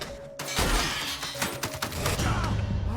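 Shotgun blasts in the video game The Outer Worlds: several loud, sharp broadband booms in quick succession with crashing debris, dense and close, and no talking.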